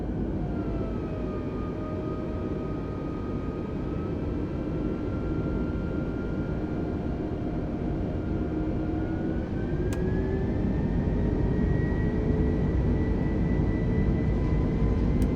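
Twin jet engines of an Airbus A320 in Microsoft Flight Simulator spool up for takeoff, a steady loud roar with rising whining tones that climb in pitch, continuous and uninterrupted with no talk.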